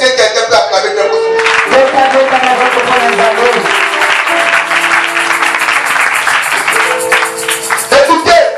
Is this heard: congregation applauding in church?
yes